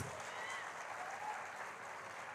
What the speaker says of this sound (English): I think we need to give a huge round of applause for him standing for so long and speaking for us